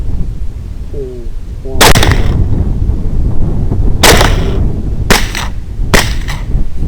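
Rifle shots fired at wild hogs during a night hunt on new property: four sharp, loud cracks spaced a second or two apart, each with a short echoing tail over a steady outdoor background hiss.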